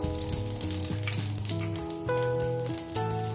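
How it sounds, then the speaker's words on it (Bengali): Panch phoron whole spices hitting hot oil in a wok for a fish curry, a steady close sizzle and crackle that fills the whole stretch, with no one talking. "তেলটা আমার গরম হয়ে গেছে। দিয়ে দেবো এখানে পাঁচফোড়ন।"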